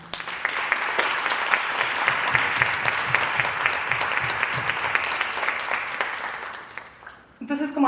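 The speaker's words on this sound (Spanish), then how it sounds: "un aplauso, por favor" A festival audience at a FICG 36 master class with a guest filmmaker applauds in a dense, steady wash of clapping that fades out near the end, where a voice briefly begins speaking.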